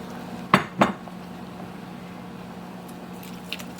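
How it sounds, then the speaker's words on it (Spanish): Shrimp going into a boiling pot of seafood stew with sour cream: two quick, sharp clinks of metal near the start, then a quiet simmering hiss with no talk. "Ahora lo que vamos a hacer es, vamos a agregar los camaroncitos."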